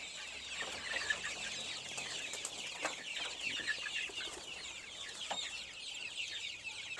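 A flock of six-week-old chicks on a poultry farm raising about 2,000 chickens cheeps continuously, a dense, high, overlapping chatter heard nearby with no voices.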